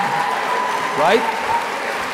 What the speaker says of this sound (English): they clap.